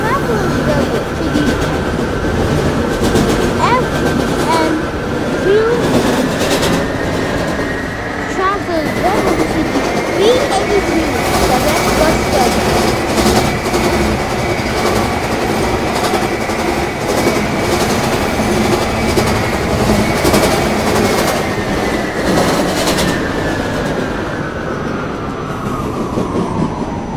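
An NYC Subway D train rides along the tracks with loud, continuous rumbling and clatter, a high whine rising and falling, and occasional wheel squeals throughout.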